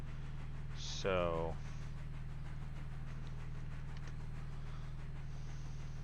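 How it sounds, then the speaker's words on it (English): In the video game Railroader, a train rolls along the tracks with a steady low rumble and a rhythmic pulsing undertone. A brief spoken word cuts in near the start. "Because the train's coming down from Kennelly"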